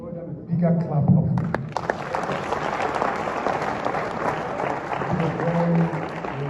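Audience applause at a United Nations mock summit held at the Air Force Institute of Technology, Kaduna, with steady clapping from a sizable crowd running throughout, rising slightly near the end, and a voice heard briefly at the start.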